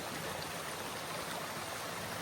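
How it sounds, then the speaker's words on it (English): Water flows out from between rocks near a mountain pond on a hiking trail. It makes a continuous, close, rushing babble with no pauses. "That water coming out of those rocks."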